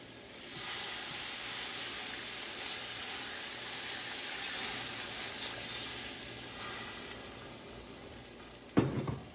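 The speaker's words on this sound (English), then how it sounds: "I'm going to add 6 cups of water." Water being poured into a pot of creamy baked potato soup on a stove, a steady hissing, sizzling wash that runs for about eight seconds at close range, ending with a sharp clink.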